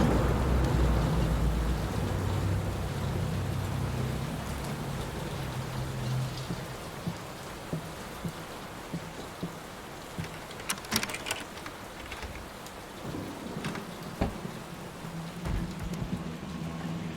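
Steady rain pours in the Layers of Fear horror game, a dense hiss with scattered drops and a low thunder rumble fading early, followed by sharper crackling strikes later on.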